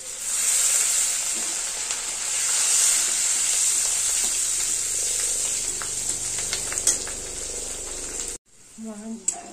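Bay leaves, whole cumin and slit green chillies sizzle in hot oil, a bright, hissing crackle up close that swells and fades with occasional stirring, then cuts off abruptly before a few quieter clinks.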